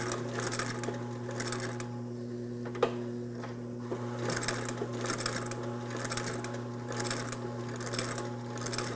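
Shoe repair stitching machine sewing in a cobbler's shop, a loud steady mechanical hum with rhythmic bursts of rapid stitching, pausing briefly before running on again.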